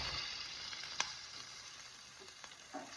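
Okra fries in a pan, giving a faint, steady sizzle with a few soft clinks and stirring sounds now and then.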